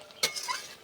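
A spoon turning spice paste with chopped coriander leaves and garam masala in a pan: one quick scrape and clink followed by a brief soft stir over a faint sizzle, no talking.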